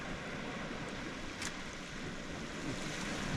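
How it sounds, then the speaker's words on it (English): Ocean waves wash in and drain out on an Australian shore, a soft continuous surf wash with light wind noise, faint and steady with one brief splash midway. "Just letting the water come in and then drain out a little bit"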